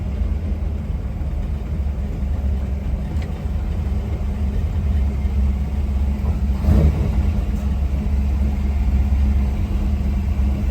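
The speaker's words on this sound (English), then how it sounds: "we're going to take this 1968 Ford Bronco for a test drive and see how it does" A 1968 Ford Bronco engine rumbles at a steady idle up close on a test drive, with a slight swell in revs midway and continuous low-pitched throb.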